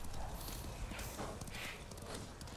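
Faint hooves of a horse in Ghost of Tsushima clop at an unhurried walking pace, a soft, steady clip-clop rhythm over a quiet game ambience.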